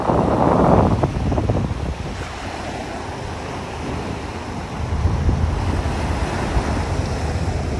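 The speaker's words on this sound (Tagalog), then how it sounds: "Malakas ang hangin at malakas ang alon." Strong wind buffets the microphone while ocean waves roll and crash continuously nearby on a Manila Bay beach, a loud gust at the start.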